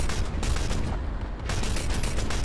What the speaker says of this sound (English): Oh shit, what are we getting shot at?